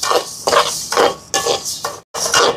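Moong dal being dry-roasted in a pan, stirred with rhythmic scraping strokes about twice a second, close and fairly loud, with one short pause near the end.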